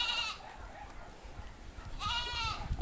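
Two nearby goat bleats, one at the start and another near the end, separated by a quiet stretch of low rumbling background.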